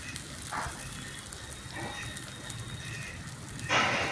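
Chickpea cutlets frying in oil give a soft, steady crackle like light rain, fairly quiet, with a couple of brief brighter clinks.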